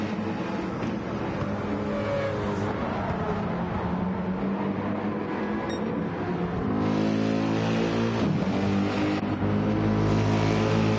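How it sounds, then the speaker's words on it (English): BMW race car in Gran Turismo 7 at Brands Hatch, drifting around the outside of turn 2: a steady, loud engine drone with shifting revs and a rising surge near the end, no talk over it. "Natty drifting that BMW right round the outside of turn 2."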